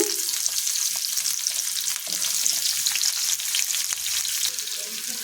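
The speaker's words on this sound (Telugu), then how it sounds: "ఇలా ఉల్లిపాయలు వేసుకుని దోరగా వేయించుకుంటే సరిపోతుందండి" Sliced onions fry in oil in a pan, a dense continuous sizzle with occasional stirring clicks, close and steady, no speech heard.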